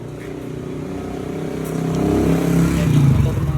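A 1970s yellow Yamaha DT two-stroke motorcycle engine idles close by, then rises into a building rev with climbing engine tone toward the end, loud and steady with no talk.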